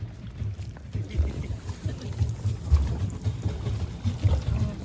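A small boat moves across water, giving a continuous low rumbling churn with lapping and splashing throughout, loud and close.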